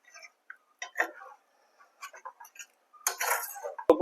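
Pointed gourd curry being stirred in a pan with a utensil, producing sparse, irregular clinks and scrapes, then a louder run of scraping and knocking near the end, with quiet gaps between.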